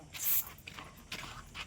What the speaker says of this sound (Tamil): என்ன என்ன ஸ்ப்ரே அடிச்சுட்டே இருக்கீங்க?